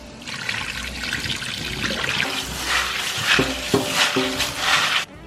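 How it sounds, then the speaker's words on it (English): Water trickling and splashing over dry beans being rinsed in a kitchen, a steady close wash of running water with soft stirring and knocking as the beans are moved around. "We're gonna rinse it out."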